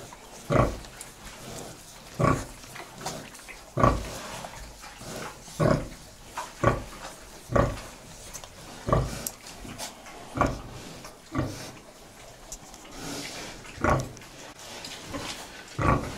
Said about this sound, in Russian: Вони і тут їдять, і там щось чмакотять.